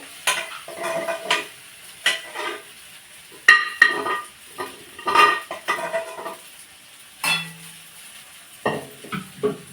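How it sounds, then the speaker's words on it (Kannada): Spices for tempering sizzle in a pan for a broad bean curry while a utensil stirs and scrapes, giving irregular clinks and scrapes over a faint frying hiss, close by with no voices. "ಇದನ್ನೇ ಒಗ್ಗರಣೆ ಹಾಕ್ತಾ ಇದ್ದೀನಿ"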